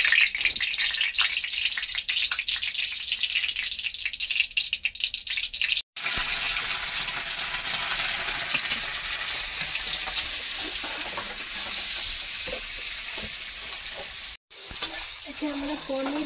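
Cubed paneer fries in hot oil in a pan, giving a loud, continuous sizzle close by with occasional stirring clatter and brief dropouts.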